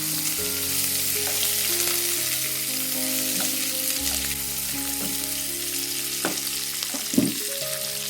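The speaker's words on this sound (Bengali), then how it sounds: "তো মশলার সাথে সবজিগুলোকে ভেজে নেব" Mixed fresh vegetables fry with spices in a pan for a veg biryani, giving a loud, steady close sizzle with a few brief stirring clinks near the end and no voices.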